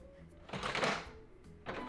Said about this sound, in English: I'm just gonna take you over here to load my laser printer